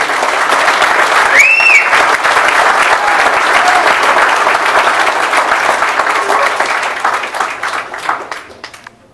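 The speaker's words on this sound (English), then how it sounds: "Round of applause for Sergeant Cabrera." Sustained applause from an audience at a military retirement party honoring a command sergeant major's 40 years of service, dense and steady for about eight seconds before tapering off, with a faint voice or whistle rising briefly above it.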